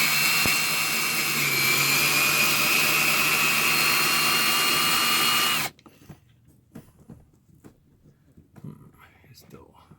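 A power drill drives screws into luan panels under a Ford Excursion roof, whining loudly and steadily for about five seconds before cutting off abruptly, followed by faint clicks and handling noises.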